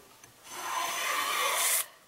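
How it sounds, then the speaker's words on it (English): A hand plane shaves the corners off a wooden 2x4 in one sustained, rasping stroke of about a second and a half. The sound is close and fairly loud and ends abruptly. "it also helps in this process if you keep count of the number of strokes with your plane"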